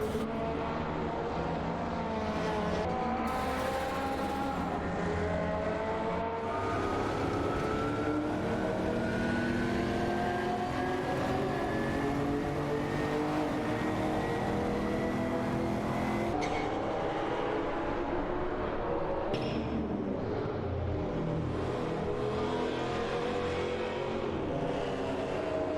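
Race car engines in a racing video game, including a BMW, whine continuously with rising and falling pitch sweeps as cars accelerate and shift through gears, several overlapping at steady moderate volume.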